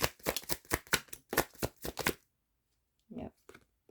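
A deck of cards is shuffled in quick, rhythmic riffling bursts for about two seconds, close and crisp, then goes quiet before a brief voice is heard.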